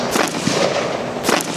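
IWI Tavor X95 Micro rifle shots outdoors, two sharp loud cracks with short decays, one early and one near the end.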